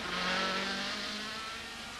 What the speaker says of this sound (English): listen to the stones on the underside of the Toyota as Rouse rejoins